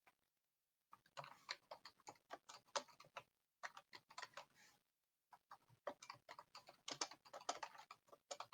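Quick, light keystrokes on a computer keyboard while typing into a chat, irregular clattering taps in short runs with brief pauses, close and quiet with no talking.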